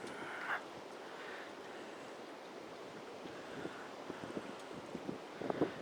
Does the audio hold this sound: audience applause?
no